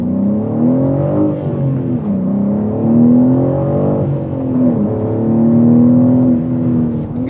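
In a driving video game's drift session, a car engine revs loud and steady, its pitch sweeping up and down through sustained high-rev drones with no talking.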